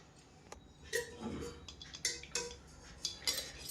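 New metal cooking pot lids clink and clatter as they are set onto the pots, a series of sharp, fairly close knocks and rattles over a quiet room.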